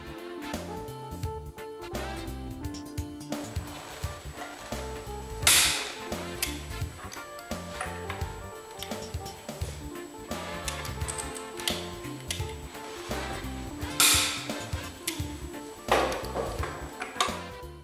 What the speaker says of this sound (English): Using an initial torque of 400 Nm, tighten the screws in the tightening sequence shown.